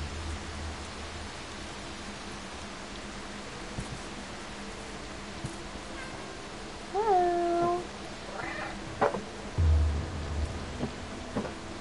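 A cat meows a few times in the video game Stray, short rising-then-falling calls heard mid-distance over a steady hiss of rain, with a soft thump near the end.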